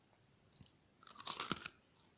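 Oreo Peanut biscuits dipped in Banania being chewed, a few soft wet crunches and bites close to the mouth, faint and brief, with no talking.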